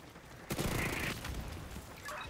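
Sniper fire during an incursion mission in The Division 2: a sudden loud burst of shots that rolls into a sustained noisy echo, then fades to a lower rumble.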